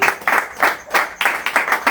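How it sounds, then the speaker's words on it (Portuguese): Church congregation clapping in unison for Jesus during a Portuguese-language worship service, loud and close with a strong regular rhythm of grouped claps. "Bate palmas para Jesus"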